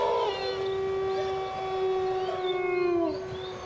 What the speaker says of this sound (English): Oh, it's that dog again. That confounded dog is tied up around here somewhere.